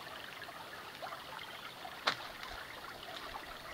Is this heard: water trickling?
yes